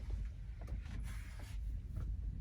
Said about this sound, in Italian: Eh sì, c'è vento